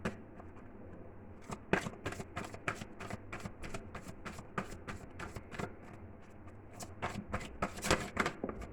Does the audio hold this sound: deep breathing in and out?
no